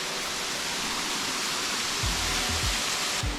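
A waterfall on Oahu, Hawaii rushes in a constant broad hiss, loud and steady, with low thumps near the end, likely wind on the microphone.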